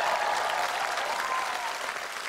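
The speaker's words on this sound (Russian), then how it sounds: "Давайте просто секундочку послушаем зал и эти аплодисменты." Audience applause fills a theatre after a performance by the Baikal song and dance theatre from Ulan-Ude, a dense, steady roar of many hands clapping at once that holds evenly loud throughout, with no voices over it.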